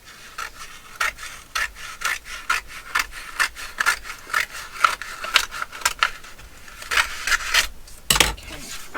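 Scissors cutting paper for a junk journal collage, a steady run of short crisp snips and rasping slices, close and fairly loud with no talking.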